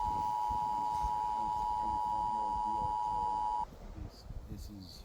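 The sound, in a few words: emergency alert tone on a phone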